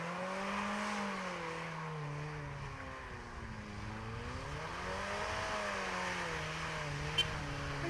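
Engines roar steadily through a Honda Civic versus Dodge Dakota burnout contest, a loud continuous drone with pitch rising and falling as the throttle is worked, no talk over it.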